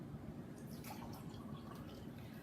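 Apple ginger ale poured over a kitchen sink, a soft, faint splashing and dribbling of liquid that runs steadily for a couple of seconds.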